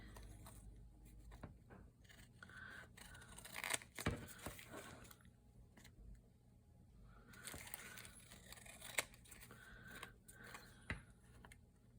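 Scissors snip off excess paper from a 3-D heart altered playing card craft, with a few crisp cuts and light paper rustles spread across a quiet tabletop scene.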